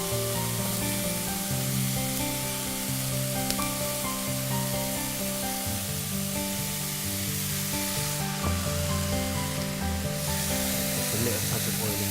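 Diced red and white onion with half a red pepper fry in a little oil in a pan, giving a continuous soft sizzle and hiss that runs steadily throughout, with occasional faint stirring.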